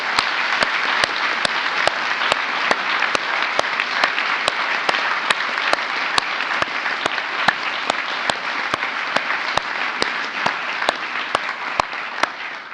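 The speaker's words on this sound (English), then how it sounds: "let us give her a heartfelt round of applause." Sustained audience applause at an International Women of Courage award ceremony, an even, continuous roar of many hands clapping, heard alone at moderate distance with regular sharp clicks running through it.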